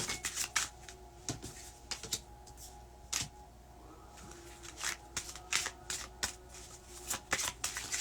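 Playing cards shuffled and drawn from a deck: a quick run of sharp riffling snaps and flicks with short pauses between bursts, close and fairly loud, with no talking.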